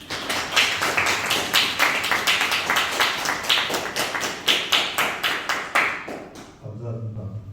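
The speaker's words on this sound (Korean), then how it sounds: "박수 한번 드리겠습니다." Church congregation clapping in rhythmic unison, a strong steady beat of sharp claps for several seconds that stops abruptly, followed by someone speaking.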